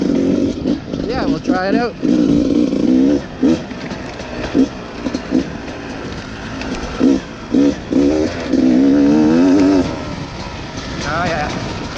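A 2018 Beta 300 RR two-stroke dirt bike revs and rises in pitch as it is ridden, its engine note climbing and dropping in bursts under a rider's occasional talk.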